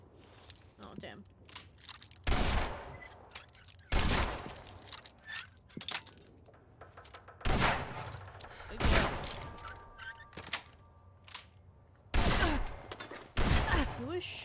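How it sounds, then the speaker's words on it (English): Gunfire in Fallout 76 comes in loud, separate bursts of shots spread across the stretch, with quiet gaps of rustle and movement between the volleys. "Who is shooting me?"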